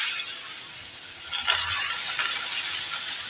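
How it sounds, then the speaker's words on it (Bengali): Ash gourd pieces drop into a hot pan of tempered spices, setting off a sudden burst of louder sizzling over a steady background hiss, close and without talk. "এবার আমি চাল কুমড়োটাকে ছেড়ে দিচ্ছি।"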